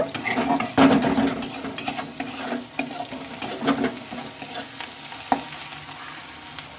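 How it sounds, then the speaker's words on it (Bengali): Onions frying in a pan for a cabbage and mung dal dish, a soft crackling sizzle with intermittent stirring clinks and scrapes of a utensil against the pan, fairly close. "পেঁয়াজগুলোকে এখন একটু আমি লাল লাল করে ভেজে নেব"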